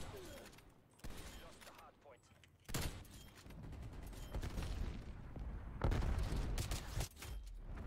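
Gunfire in the video game Call of Duty: Black Ops Cold War, with sharp bursts of shots and explosive cracks at moderate distance, some sudden loud strikes, while a voice talks underneath.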